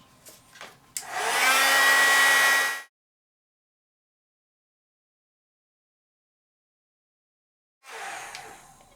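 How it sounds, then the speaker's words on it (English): A heat tool blows a loud, steady whir for about two seconds as it sets distress embossing glaze, then cuts off into silence before starting again near the end. "So I'm just gonna go ahead and heat set this now."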